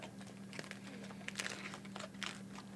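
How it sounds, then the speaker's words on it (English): Foil wrapper of a Terry's chocolate orange with popping candy being unwrapped, giving close, irregular crinkling and crackling bursts over a steady low hum. "Oh, we're supposed to whack and unwrap it?"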